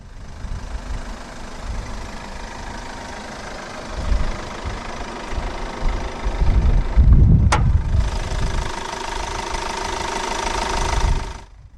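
A 2015 Kia pro_cee'd with a 1.6-litre CRDi turbo diesel inline-four, idling steadily with a diesel clatter, swelling briefly as the revs rise before settling again, close and loud.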